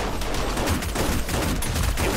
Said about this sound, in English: Sounds like an SMG.